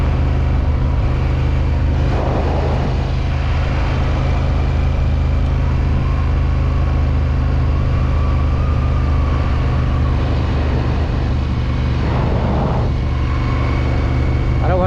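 Honda Africa Twin motorcycle, a 2024 model, riding along with a steady engine drone and wind rumble, fairly loud and continuous, with brief surges of road noise.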